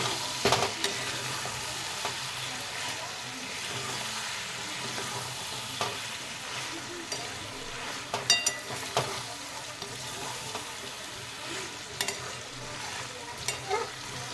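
Chili, coriander and cumin powders being stirred as they fry in oil in a pan, a soft continuous sizzle broken by scattered scraping clicks of a spoon against the pan, fairly close and without voices.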